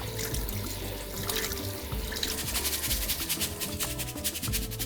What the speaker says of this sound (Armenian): Լվանում ենք սառը ջրի տակ,